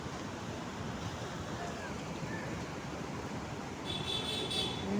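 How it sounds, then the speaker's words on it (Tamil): Water rushes steadily through the Mettur Dam, a broad continuous roar of flow heard from a distance, with wind buffeting the microphone and no voices. "தண்ணி பாருங்கள் அழகாக வந்துருக்கு"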